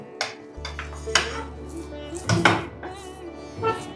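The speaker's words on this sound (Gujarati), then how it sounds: "ગેસ બંધ છે અને આપણે ચલાવી રહ્યા છીએ" Batter is stirred in a metal pan on a switched-off gas stove, with scattered clinks and scrapes of a spoon against the pan over a low steady hum and a few light knocks.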